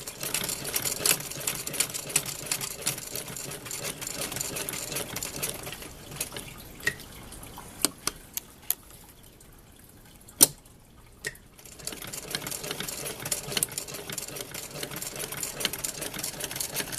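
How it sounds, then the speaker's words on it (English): A sewing machine stitches a retaining strap for a West German mess kit, its rapid, even whirring running for long stretches, dropping away briefly mid-clip with a few clicks and taps before resuming. "That's all the sewing you have to do."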